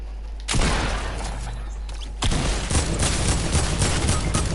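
Fortnite gunfire erupts in two sustained bursts of rapid shots, loud and close, with the second barrage kicking in midway and running to the end.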